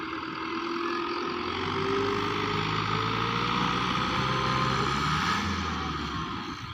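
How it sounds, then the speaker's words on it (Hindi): A 1995 Fiat 640 tractor engine idles steadily, a low continuous mechanical rumble with a constant hum and no change in pace, heard alone without talk. "ये 640 ट्रैक्टर आ जी। मॉडल आ गया जी 95 1995 मॉडल आ।"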